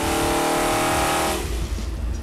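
A Mondello 455 Oldsmobile big-block V8, fitted with a Holley 870 Street Avenger carburetor, roars loudly at high revs on a dyno pull, then cuts off abruptly and drops away after about a second and a half.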